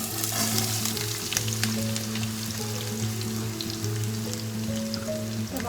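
Potato pieces frying in oil with spices for aloo ki tarkari, a steady close sizzle and crackle with scattered pops, loud and continuous with no talking.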